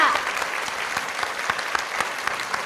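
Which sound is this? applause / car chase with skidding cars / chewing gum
applause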